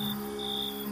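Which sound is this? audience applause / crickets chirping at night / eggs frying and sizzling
crickets chirping at night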